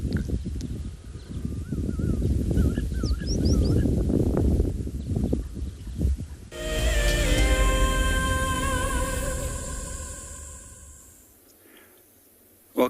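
Birds call at a dam on a South African safari walk: scattered warbling chirps over low rustling, then a louder, tonal, sustained call with harmonics that slowly fades into quiet.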